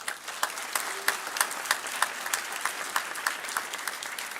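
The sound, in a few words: audience applause at commencement ceremony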